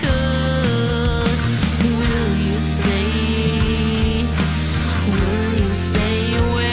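A full band plays loudly, with a prominent bass guitar line driving under drums, guitars and singing.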